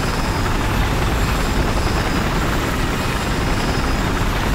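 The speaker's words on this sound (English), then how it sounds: "Oh hey, guess what I found? A chopper." A military helicopter in the Battlefield 4 video game on a coastal conquest map, its steady dense rotor and engine roar filling the clip at constant loudness with no pauses.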